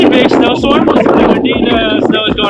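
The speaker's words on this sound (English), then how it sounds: "It's really windy." Gusts of wind from a heavy mountain snowstorm on the Patagonia W Trek rumble low against the microphone beneath a person talking close by, steady and blustery throughout.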